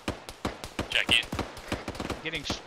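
Rapid gunfire in the video game ARMA 3 cracks out in dense bursts of close shots, with brief chirping effects and a radio voice talking among them.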